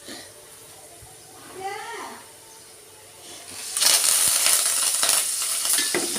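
Raw chana dal frying in hot oil in a pan for pulihora, with a quiet stretch before a loud, steady sizzle bursts in and continues, broken by scraping stirs and a few clinks.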